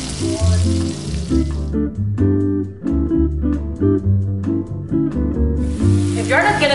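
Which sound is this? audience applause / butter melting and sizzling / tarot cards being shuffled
butter melting and sizzling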